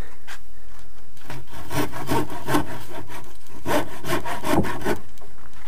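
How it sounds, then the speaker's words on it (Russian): Hand saw cutting through a wooden board for a staircase build, steady rhythmic back-and-forth rasping strokes, close and loud with no talking. "Буду пилить."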